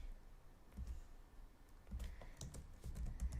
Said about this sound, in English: I know I'm typing it over the other words.